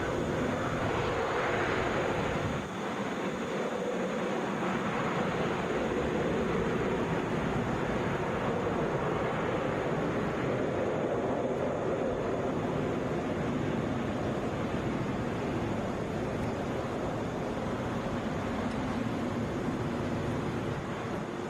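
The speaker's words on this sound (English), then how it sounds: "This is Delta 2556 coming in from St. Louis, Airbus A320." A Delta Airbus A320 arriving from St. Louis lands at Atlanta's international airport, a broad, steady engine roar with some wind noise, sustained and moderately loud throughout, with no voices.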